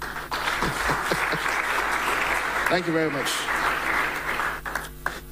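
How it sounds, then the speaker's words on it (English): A public forum audience on mineral royalties applauds, sustained clapping throughout while someone briefly speaks over it. "I would say another round of applause for me"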